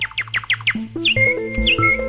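Cartoon birds chirp in a quick run of bright, repeated tweets, followed by longer sweeping calls over a soft musical backing, close and clear.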